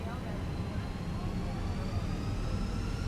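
Fenix A320 jet engines on the takeoff roll in Microsoft Flight Simulator 2020: a constant, dense low roar with faint rising whine tones above it, steady throughout, with a voice talking over it.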